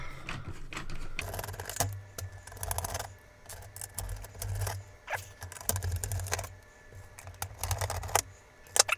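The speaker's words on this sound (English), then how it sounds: "I just want to pull the rest of these keys off, because they'll all need washing as well." Keys are being pried off an Acorn Electron computer keyboard, giving irregular plasticky clicks, snaps and rubbing scrapes at close range, with pauses between removals and no talking.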